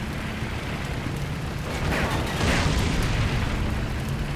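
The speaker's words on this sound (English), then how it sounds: "Here comes the mortar barrage." Mortar barrage in Combat Mission: Cold War, a realistic military strategy game, heard as a continuous roar of overlapping booms and rumbling blasts that swells slightly midway and stays dense throughout.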